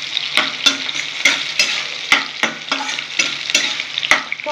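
Onion and chopped vegetables fry in a pan for chirer polao, a close, steady sizzle broken by regular scraping strokes of a spatula stirring about every half second.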